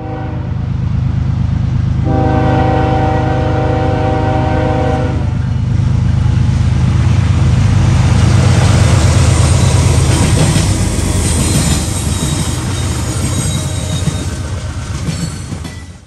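A Norfolk Southern freight train, eastbound number 170, rumbles loudly into a siding on a former main line, its horn sounding a sustained chord for a few seconds amid a continuous heavy roar of wheels and cars.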